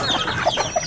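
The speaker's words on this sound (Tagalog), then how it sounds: "Intian na manok ini" Chickens clucking in quick, irregular bursts, close and moderately loud against a busy background, with no talk.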